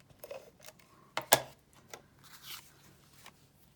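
Scissors snipping away the white edge of a printed card image for a cardmaking project, a few quiet close cuts with one sharper snip near the middle over a soft room hush.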